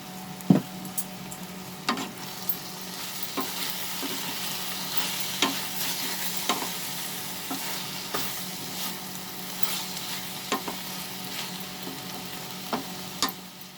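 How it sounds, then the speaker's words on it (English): Aloo methi (potatoes and fenugreek leaves) sautéed over a high flame, a low continuous sizzle punctuated by regular soft scrapes and taps of a spoon against the pan, no voices. "Let's increase the flame and saute it for 2 minutes over high flame."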